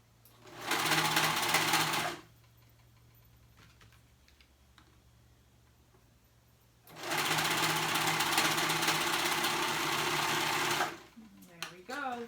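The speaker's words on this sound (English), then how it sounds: "Make sure you're sewing those ruffles on." A sewing machine stitches ruffles through three fabric layers in two long, steady bursts separated by a quiet pause, close and loud, with a little handling noise at the end.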